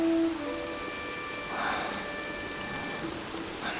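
Heavy rain hisses steadily and evenly in an outdoor scene from a Chinese wuxia drama, with faint held tones running beneath the downpour.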